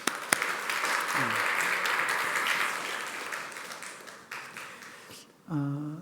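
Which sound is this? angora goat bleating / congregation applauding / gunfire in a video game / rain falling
congregation applauding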